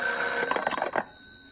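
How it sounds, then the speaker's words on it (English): A telephone rings in a vintage radio drama, a single bright, trilling electric bell burst lasting about a second over a faint hum, then stopping. "Is the phone ringing?"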